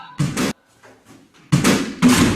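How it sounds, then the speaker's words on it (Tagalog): Loud crashing thuds of a chair being flung: one heavy burst, a quiet pause with faint rustling, then two more forceful crashes in quick succession. "Biglang tumilapo ng upuan na nakalagay sa sulok ng silid"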